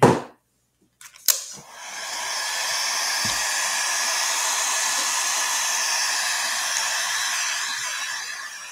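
A few clicks and a brief burst come first, then a hair dryer blows loud and steady at close range for several seconds while drying a plastic Halloween decoration.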